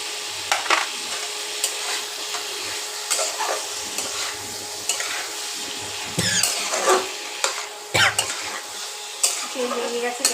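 Potato, soybean and pointed gourd curry with spices sautés in a pan, a continuous oily sizzle broken by repeated scraping and clinking strokes of a spatula against the metal, close and fairly loud.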